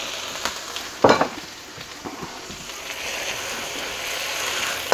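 Shrimp hit a hot frying pan with a loud burst of sizzling, then settle into a steady crackling fry with a few light stirring clicks, close by and with no voices.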